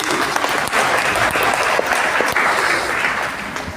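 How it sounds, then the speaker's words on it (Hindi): Loud, dense applause from a seated audience at a DXN business talk, a continuous wash of clapping that holds steady throughout and eases slightly at the very end. "एक जोरदार ताली डीएक्शन फैमिली के लिए"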